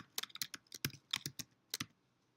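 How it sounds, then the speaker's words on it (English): Fingers type on a computer keyboard in a quick, uneven burst of a dozen or so crisp, close key clicks, then stop, with no one talking. "So if I'm typing C:,"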